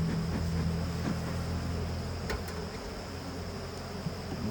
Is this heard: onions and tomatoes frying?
no